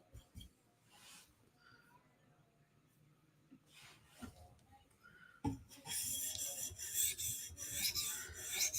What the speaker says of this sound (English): So now I'm trying to deburr this 400 grit edge, just doing long sweeping strokes